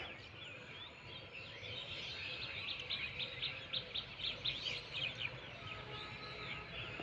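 Small birds chirp outdoors near a kingfisher: quick, repeated tweets, densest in the middle of the span, faint and somewhat distant over a steady wash of background noise.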